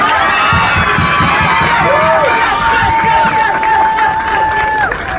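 A loud crowd cheers and claps for a girls' championship team at a community rally, with high-pitched shrieks and whoops riding over steady applause throughout.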